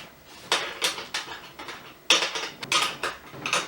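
Two 14 millimeter wrenches tighten the clamp cap on a single post reverse osmosis kit, producing a quick series of metallic clicks and ratcheting scrapes in two bursts, close and fairly loud, with no talking.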